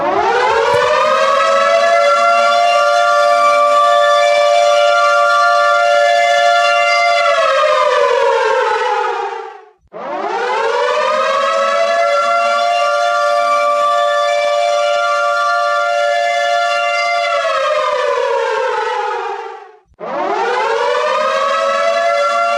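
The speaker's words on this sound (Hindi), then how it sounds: "इस तरह के एयर रेड सायरन के साथ लगातार सुनना चाहेंगे" A loud air raid siren wails in long sustained blasts, each swelling up and sliding down before briefly cutting out and starting again.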